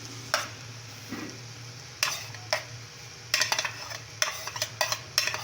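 Chicken fried rice with eggs and soy sauce is stirred in a pan: clustered scraping strokes and utensil clatter come in bursts over a low, steady sizzle, close up and without speech.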